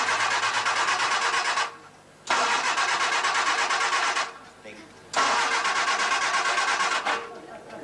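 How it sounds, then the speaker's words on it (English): A car engine cranks hard without catching, in three long starter bursts separated by short pauses. The whirring is loud and close and ends each time without firing. "It won't start, man."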